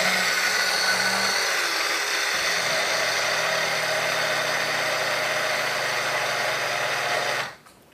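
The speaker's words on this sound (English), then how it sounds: "you basically just put it in your coffee grinder. You just give it a few swirls" A coffee grinder whirs steadily while grinding sesame seeds, a loud, even motor buzz held for about seven seconds before cutting off abruptly. Nobody speaks.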